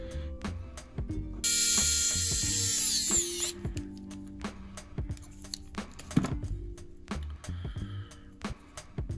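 Small screws fastening a camera into a 6S cinewhoop drone frame: close ratcheting clicks and taps, with a brief high-pitched whir of a driver spinning, then more tapping and handling noises.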